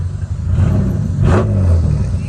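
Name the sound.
BMW E36 M3 six-speed engine revving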